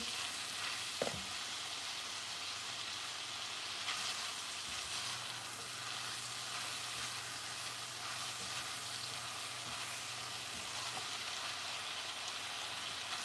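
Onions and a piece of meat frying in a pan, a steady close hiss and crackle of sizzling oil running continuously with no talking.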